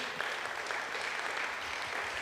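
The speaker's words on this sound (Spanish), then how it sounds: "Dale un aplauso al Señor." Church congregation applauding, a steady even wash of many hands clapping, fairly quiet and distant-sounding, with no voices over it.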